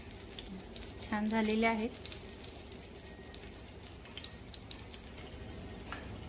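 Green chillies fry in a little oil in a pan, giving a steady close sizzle with a brief louder hiss partway through, under a short spoken line.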